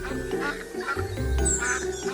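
A cartoonish duck quack sound effect, a couple of nasal, buzzy quacks close and loud over a low rumbling background, played as a punchline in a comedy show.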